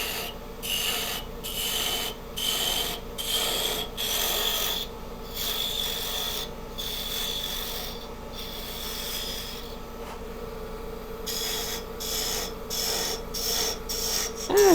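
Wood spindle spinning on a lathe as a tool takes tiny cuts, a continuous low hum under rhythmic rasping scrapes that come in short bursts with brief gaps, close and moderately loud.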